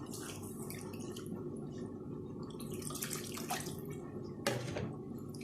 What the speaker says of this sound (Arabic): غادا ندير ليه الماء مزيان